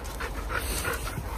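A dog pants rapidly and steadily close by while out walking in a forest, a continuous breathy rhythm over outdoor background noise.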